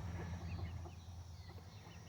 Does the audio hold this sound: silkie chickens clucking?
yes